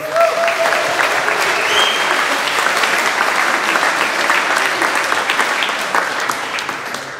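Loud, full applause from the audience at a benefit concert at Paradiso, Amsterdam, a thick continuous roar of clapping that stays strong throughout and eases slightly toward the end.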